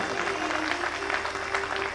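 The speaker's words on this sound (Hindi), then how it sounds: "अरे जोरदार तालियां बजाओ इनके लिए" Steady applause from an audience at a Jain Panchkalyanak consecration festival ceremony at Golden Temple, Rohini, a dense, even patter of clapping with a faint held tone running beneath it throughout.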